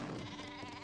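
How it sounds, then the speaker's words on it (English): A single short, nasal bleat from a Marco Polo sheep in the Age of Empires 3 strategy game, quiet and brief with a wavering tone. "Marco Polo sheep."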